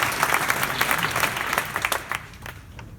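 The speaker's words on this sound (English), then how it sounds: "Please give a round of applause for Francois from Saturday." A business summit audience in The Hague gives a round of applause: a full, crackling wash of many hands clapping that stays strong for about two seconds, then thins out and trails off.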